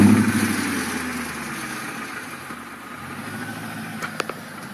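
A 2000 BMW E39 540i V8 idles steadily, heard from behind the car, with a loud, even low rumble at first that settles slightly, a few faint clicks near the end, and no talking.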